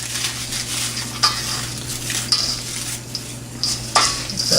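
Ingredients for peanut butter granola, including crumbled pieces, are stirred together in a pan, with scraping and clinking strokes at irregular intervals over a low steady hum.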